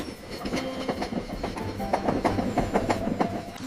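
Train wheels clatter along the track in a steady clickety-clack, close and fairly loud, with a faint hum underneath, used as an effect in a children's phonics alphabet song.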